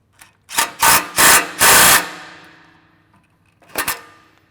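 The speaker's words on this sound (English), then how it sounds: "We'll lock these down good and tight with a wrench." A power wrench tightens bolts on an Ironman 4x4 Raid front bumper on a 2016+ Toyota Tacoma: four short loud bursts close together, ringing metal as they die away, then one more brief burst after a pause.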